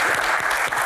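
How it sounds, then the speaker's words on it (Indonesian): Audience applause for Pak Tahir at a Q&A event, a dense, steady wash of many hands clapping loudly and continuously with no pauses. "Tepuk tangan untuk Pak Tahir."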